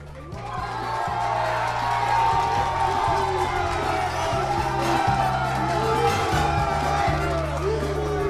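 A crowd at a school youth challenge event cheers and whoops loudly and continuously, with shouts over a steady rhythmic music beat.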